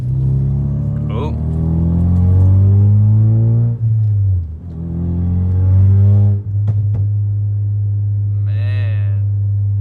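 Car exhaust in sport or track mode, with a suspected exhaust leak, rumbling loudly close by as the engine revs up and settles in a few swells, deep steady drone between blips.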